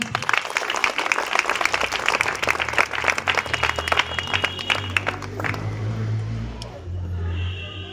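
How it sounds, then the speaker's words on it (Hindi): Loud applause from a school gathering, many hands clapping in a dense rapid patter for about five seconds before thinning out and fading into low crowd murmur and background hum. "आप अपने विद्यालय को फिर से एक बार जोरदार तालियां"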